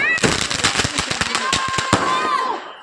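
Firecrackers burst in a quick rapid string of sharp cracks during a family Diwali celebration, close and loud, with whistling tones and voices talking over the popping.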